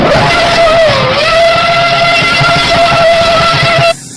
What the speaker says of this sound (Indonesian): Wah, ada mobil F1.